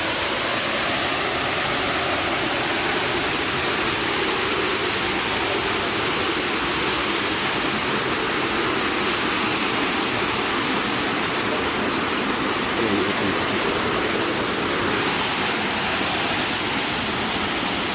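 Kima Atas waterfall near Manado roars as a steady, dense rush of falling water, loud and unbroken throughout with no voices.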